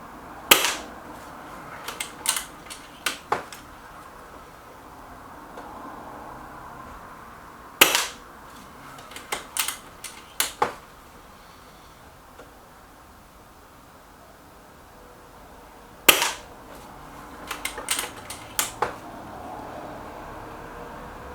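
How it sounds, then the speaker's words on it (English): A Stoeger XM1 bullpup air rifle fires pellets in three sharp, loud cracks spaced several seconds apart. Each shot is followed by a few softer clicks and knocks, over a quiet hiss. "Nearly coming to the end now, 2 shots left."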